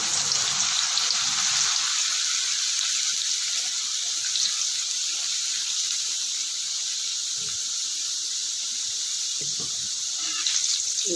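Potato wafers dropping into very hot oil, a loud dense hiss of frying that stays constant and close throughout, with a brief clatter near the end and no talk.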